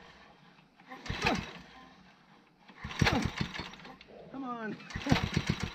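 A garden tiller engine with its governor left unhooked runs and surges in uneven bursts, revving up and dropping back between pauses, while someone speaks close by.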